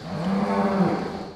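A dairy cow on a large farm gives one long, low, steady moo, close and loud, with no talking.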